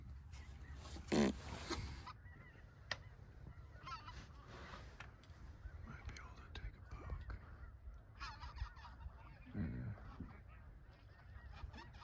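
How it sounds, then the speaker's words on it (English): Snow geese honk in repeated calls on a foggy Northern California waterfowl hunt, with one loud nearby honk standing out over a steady low background. "Maybe the snow geese will be a little lower."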